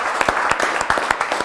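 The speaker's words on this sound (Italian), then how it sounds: "fatevi un applauso allora" A small studio audience claps during a TV quiz show between two town teams, Forgaria and Tolmezzo, producing crisp, distinct hand claps in an uneven but continuous patter, close and fairly loud.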